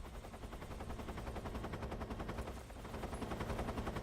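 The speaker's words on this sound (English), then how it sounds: "I am going to headshot this first guard." Gunfire aimed at a guard in Metal Gear Solid 3, a continuous rattling series of rapid shots at moderate loudness, running steadily without pauses.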